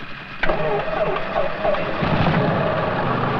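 A small training airplane's piston engine starts with a sudden catch, then settles into a steady close, droning run.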